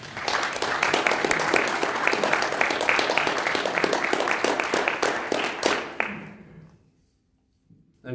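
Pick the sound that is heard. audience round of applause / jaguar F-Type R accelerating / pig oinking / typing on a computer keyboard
audience round of applause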